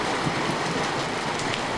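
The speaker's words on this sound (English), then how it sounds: "It's raining!" Steady rain pours down during a morning storm on the island of Ischia, a dense continuous hiss of drops on surfaces, close and even throughout with no voices.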